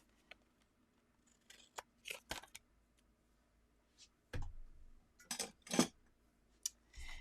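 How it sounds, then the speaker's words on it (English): Several sharp scissor snips trimming paper overhang on a handmade gift, irregular and close, with quiet pauses between the cuts and a few soft rustles of paper. "I'm going to take my scissors and just trim that overhang off"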